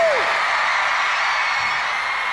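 A concert crowd at a show applauds and cheers in a steady, dense roar, with a rising whoop at the very start.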